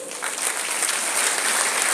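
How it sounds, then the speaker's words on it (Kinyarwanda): Worshippers at a church service break into steady, dense applause that fills the space evenly, a close and continuous wash of many hands clapping with no pause. "Akomerwa amashyi abaje gusenga."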